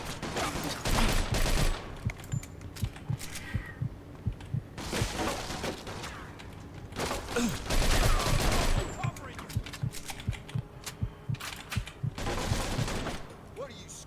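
Gunfire in the Mafia 2 video game comes in repeated bursts of rapid shots and single cracks, with loud fusillades separated by short pauses and a voice speaking at times between them.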